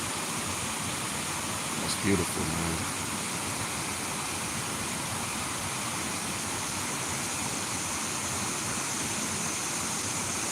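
Steady rushing of a small waterfall feeding a dirty little stream, a dense continuous wash of water with a brief spoken remark near the start riding over it.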